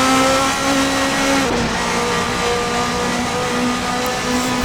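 A race car engine from a Formula Masters racing game at Zandvoort holds a loud, steady high-pitched whine on a flying lap, with slight pitch shifts as it changes gear and a sharp click at the end.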